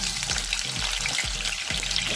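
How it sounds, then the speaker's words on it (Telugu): Green chillies frying in oil for pepper chicken, a loud continuous close-up sizzle with soft rhythmic stirring strokes about every half second. "పచ్చిమిర్చిని ఆయిల్లో వేసి వేయించడం వల్ల ఆయిల్ అంతా కూడా బాగా కారం పడుతున్నది"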